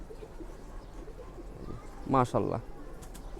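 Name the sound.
pigeon cooing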